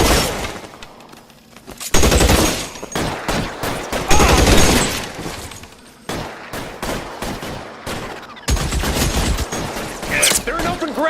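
Gunfire from the video game LA Noire in an open-ground shootout, loud bursts of shots and rapid volleys coming in waves, with shouted voices between them.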